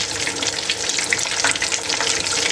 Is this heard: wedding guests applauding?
no